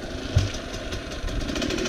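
A 2004–2005 Husqvarna SM 125 motorcycle engine runs steadily up close, with a brief thump near the start and an even, knocking mid-range drone throughout.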